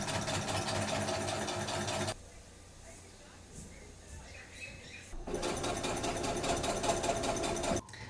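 A sewing machine stitches fabric in two long loud bursts, a steady mechanical whir with fast rhythmic ticking, separated by a quieter stretch of low background rumble and handling noise.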